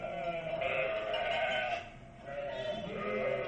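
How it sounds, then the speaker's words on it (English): Sheep bleating as a sound effect in a radio Christmas program, a few drawn-out bleats at moderate distance with a short pause between them, no talk over them. "How about some sheep?"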